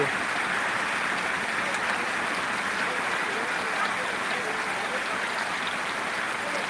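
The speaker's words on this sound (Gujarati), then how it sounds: "વરસાદ જોરદાર વરસી રહ્યો છે" Steady, dense hiss of heavy rain pouring down without a break, a constant wash of noise at moderate loudness.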